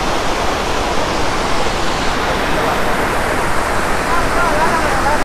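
A waterfall in Wayanad roars steadily as broadband rushing water, loud and continuous from start to finish, with no other sounds standing out.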